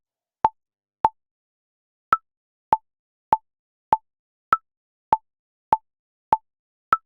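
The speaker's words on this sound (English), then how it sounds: "What the metronome does for us instead is it plays a little click" BandLab metronome clicking on each beat, roughly eleven crisp, evenly spaced clicks with a slightly higher accented click every fourth beat, heard alone and clear.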